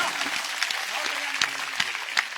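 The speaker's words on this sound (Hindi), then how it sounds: "तालियां जोरदार बजाओ ढंग के आप आनंद के साथ" An audience at a comedy show applauds with a dense, continuous patter of clapping throughout, while a voice speaks over it.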